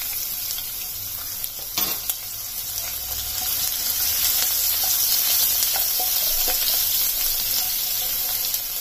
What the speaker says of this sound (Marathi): लसूण टाकायचं आहे